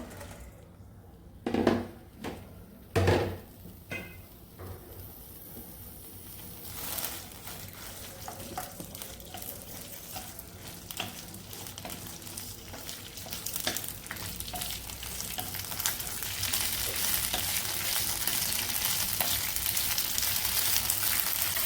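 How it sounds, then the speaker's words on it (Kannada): Long green chillies of medium heat frying in oil in a pan, a steady sizzle that builds and grows louder toward the end, with a couple of sharp clanks near the start. "ಇದನ್ನ ಇವಾಗ ಎಣ್ಣೆಯಲ್ಲಿ ಚೆನ್ನಾಗಿ ಬಾಡಿಸ್ಕೋಬೇಕು"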